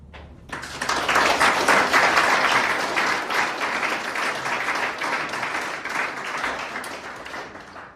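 Sustained audience applause fills the room at an eventing winners' press conference at the FEI World Cup Finals in Aachen, starting abruptly, loud and dense, then easing slightly while continuing throughout.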